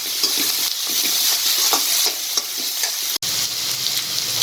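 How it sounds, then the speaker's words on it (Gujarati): Salted vegetables for street-style chow mein being stirred in a pan over a high flame, a loud continuous sizzle with scraping stir strokes and a brief dropout near the end. "હવે આમાં આપણે શાકના ભાગનું મીઠું નાખીશું અને હલાવી લઈશું."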